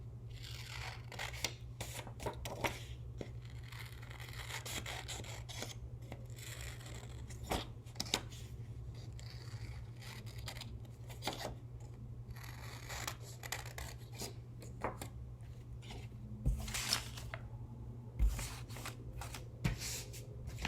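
Paper is cut by hand with scissors for a homemade lion mask. Soft, repeated snips and rustling go on steadily over a low background hum, close and fairly quiet, with no talk.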